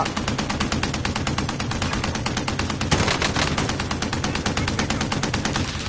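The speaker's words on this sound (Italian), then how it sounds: "Qualcuno spara da là." Sustained automatic gunfire in the video game Warzone, rapid evenly spaced shots rattling continuously for several seconds, loud and close, with a brief heavier burst midway.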